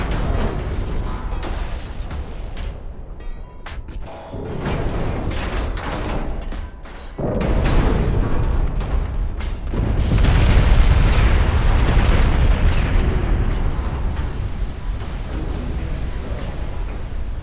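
A ship detonates in a naval warfare video game: heavy, close booms and crackling bursts roll into a sustained, thunderous roar that swells louder midway and keeps rumbling to the end, with no talking.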